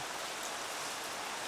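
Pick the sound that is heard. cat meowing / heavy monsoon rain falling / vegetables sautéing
heavy monsoon rain falling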